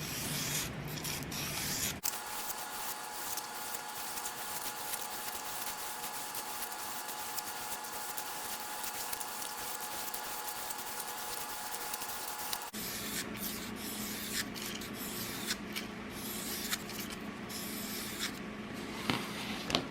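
A knife blade is sharpened on a 400 grit whetstone, giving a continuous gritty rubbing and scraping, steady and close, with a change in tone partway through and no talking.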